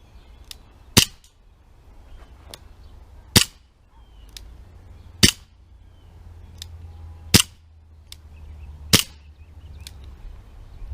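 A Tanfoglio Witness 1911 CO2 blowback airgun pistol in .177 caliber fires about five sharp, snappy shots spaced a second or two apart, each a crisp crack over a quiet background.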